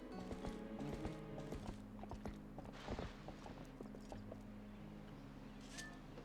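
Horse hooves clip-clop steadily in the Zelda game Twilight Princess, a rhythmic run of hoofbeats at moderate loudness over layered game music, with a brief whinny-like call near the end.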